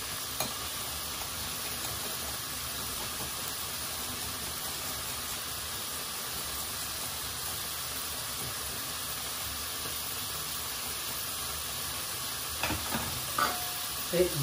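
Garlic frying in a pan for osso buco, a steady close hiss of sizzling oil throughout, with a few soft stirring scrapes near the end.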